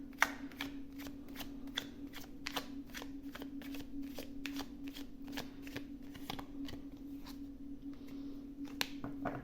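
Tarot cards shuffled by hand during a reading, a long even series of crisp riffling snaps roughly twice a second, close but faint over a low steady hum, no talking.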